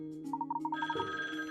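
A telephone rings in the Layton's Mystery Journey video game for the 3DS, a short quick run of electronic ringing tones over the game's background music.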